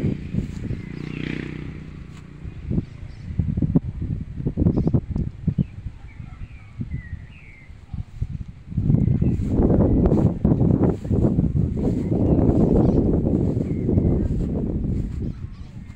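Wind blows outdoors beside a clothesline where blankets hang drying near a nipa hut, gusting in uneven rumbling bursts against the microphone and swelling stronger in the second half, with faint bird calls in the background.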